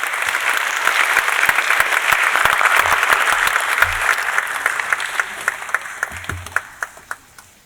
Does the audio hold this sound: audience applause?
yes